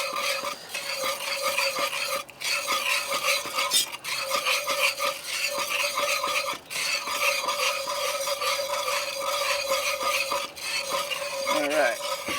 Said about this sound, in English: You're just gonna keep stirring her.